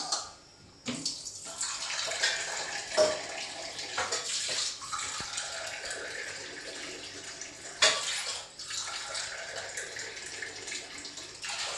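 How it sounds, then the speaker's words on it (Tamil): Water is poured steadily into a pot of rice from a tumbler, a splashing stream in several separate pours with short breaks between them, close and clear with no talking. "4 டம்ளர் தண்ணி ஊற்றணும்."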